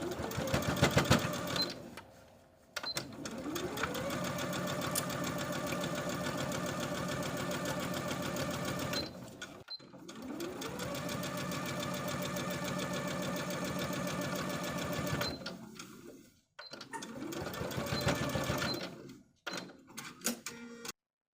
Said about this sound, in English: And sew this bias binding all the way around.